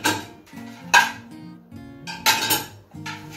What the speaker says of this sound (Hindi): सबसे पहले मैं यहाँ पर आप देख सकते हैं प्लेट्स लगा रही हूँ, ये कुछ बड़े साइज के प्लेट्स हैं जो कि मैं लगा रही हूँ यहाँ पर।